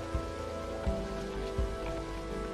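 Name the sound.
rain falling in the video game Rainswept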